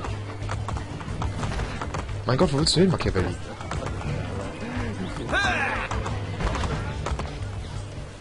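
Rhythmic clip-clop of a horse's hooves galloping in Assassin's Creed Brotherhood, a steady beat over game ambience with a brief whinny, while someone talks over it.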